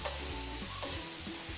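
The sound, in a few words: sautéing mushrooms in a pan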